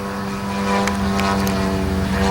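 A 50cc Revolver radio-controlled model plane holding a knife-edge pass, its petrol engine and propeller giving a steady, fairly loud buzzing drone throughout.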